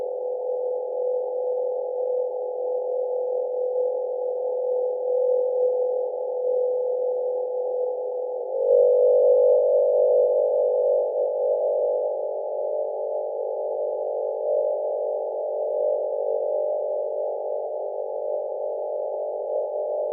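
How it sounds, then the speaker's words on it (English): Recorded sound of the MOXIE oxygen-making device aboard NASA's Perseverance rover on Mars: a steady, continuous low droning hum with a sustained tonal pitch, slightly shifting and growing a bit louder partway through, with no voices. "these are the sounds produced by MOXIE, a special device installed on the Perseverance rover."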